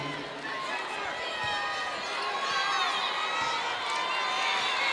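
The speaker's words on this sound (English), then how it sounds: "are you getting any sense of the intensity of the crowd here?" A large indoor crowd at a girls' high school basketball semifinal in a gym roars and cheers continuously, with shouting voices blending into a loud echoing din.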